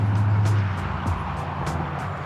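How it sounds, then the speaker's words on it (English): Cars swishing past on a road near a wooded hiking trail, a steady low traffic rumble with several brief passes, moderately loud and close. "I hear cars and I see power lines."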